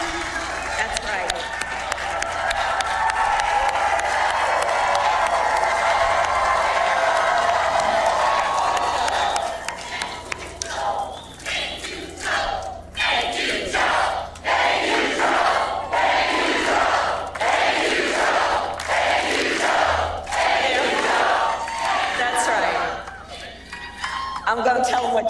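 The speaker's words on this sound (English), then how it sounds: "The crowd spontaneously, in an unscripted moment, erupting in a chorus that grew louder and louder of "Thank you, Joe."" A large crowd cheers loudly, then breaks into a rhythmic, repeated chant of "Thank you, Joe," each beat a strong burst of many voices, sustained and swelling.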